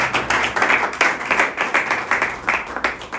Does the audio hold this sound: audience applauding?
yes